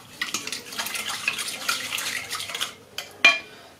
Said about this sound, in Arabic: وغادي نجيب واحد المعلقه خشبيه، وغادي نخلط هاد السنيده مع الخميره مع الماء